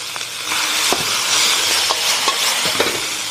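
Shredded pork and ginger strips sizzle loudly in a hot wok as cooking wine is splashed in, a steady hiss broken by sharp stirring scrapes and clinks of the spatula against the metal.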